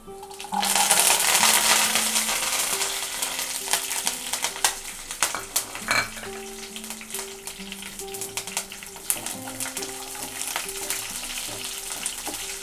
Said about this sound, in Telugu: వెల్లుల్లిపాయలు, ఎండుమిరపకాయలు వేసుకోవాలండి.